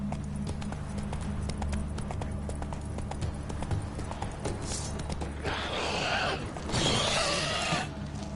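Roach the horse's hooves clip-clop in The Witcher 3 video game, a quick steady trotting rhythm over low game music, joined later by louder rushing noise bursts.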